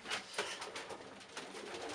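Pigeons in a roomy, well-ventilated loft give soft repeated coos and faint wing shuffles, quiet and close with no talking.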